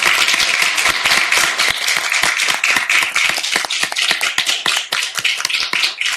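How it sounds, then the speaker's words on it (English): Close, crisp clapping from a small audience at a city council meeting, individual hand claps clearly distinct and rapid, continuing steadily for several seconds without talk. "Can we give one more round of applause?"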